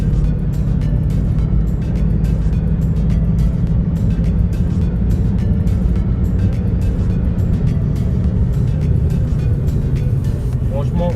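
A naturally aspirated 2-litre Ford Focus is driven in sport mode, its engine and road noise a steady loud rumble from inside the cabin, with someone talking over it.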